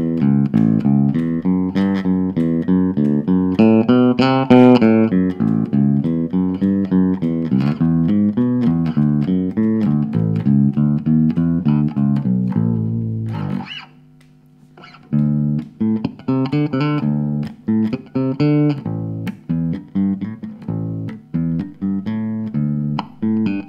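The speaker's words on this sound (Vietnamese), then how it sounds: "Rồi đây là âm thanh của nó nha mọi người." A bass guitar played through a small 10-watt Fernandez FA10B bass amp, with a steady run of clear plucked notes and one brief pause midway, close and fairly loud.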